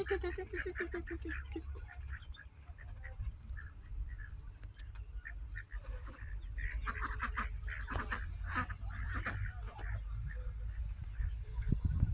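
Ducks quack repeatedly in short, scattered bursts over a low rumbling background, several birds calling at moderate distance.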